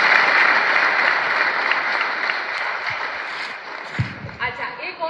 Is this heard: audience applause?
yes